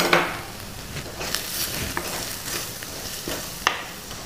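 Coriander powder sautéing in a pan for a coconut-based Kerala fish curry, a light sizzle broken by scattered spoon clinks and scrapes against the pan, close and without talk.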